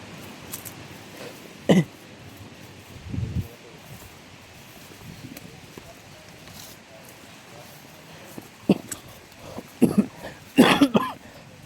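Several short coughs and throat-clearing bursts come through, one early and a cluster near the end, over quiet outdoor rustling.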